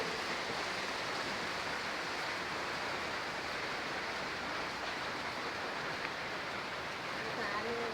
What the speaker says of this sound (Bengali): আমাদের গ্রামের বাড়ি যে বৃষ্টি নামছে রাতের থেকে